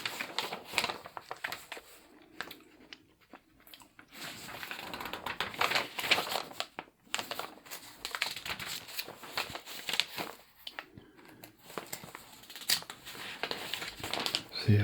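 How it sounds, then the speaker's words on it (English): Paper pages of a vintage TV guide turn and rustle close to the microphone in soft, irregular crinkles and flips, with short quiet pauses between them. "I also like page turning, so hopefully some of these page turning sounds will be relaxing for you guys."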